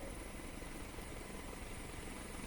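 A helicopter landing at Chakeri airport in Kanpur gives a steady, dense broadband roar, fairly distant and unbroken, with no talking.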